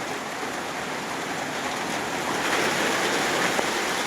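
A hillside river swollen by early-morning rain rushes steadily, a dense, continuous wash of flowing water that stays loud and unbroken throughout with no voices.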